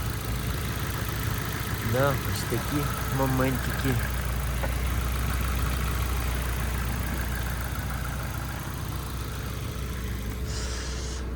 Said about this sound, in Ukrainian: ось так можете послухати працює двигун